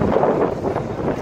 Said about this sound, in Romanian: Bate un vânt foarte tare aici.